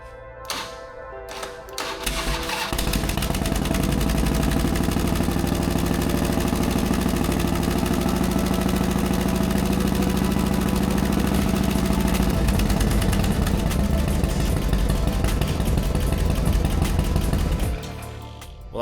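A Harley Davidson FXR motorcycle that sat unused for 16 years cranks, fires up and settles into a loud, ticking idle that runs about fifteen seconds before being shut off.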